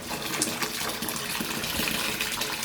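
Very hot water pouring from a faucet into a tub to cover mower deck spindles, a constant foamy gush close by with bubbling splashes and no talking.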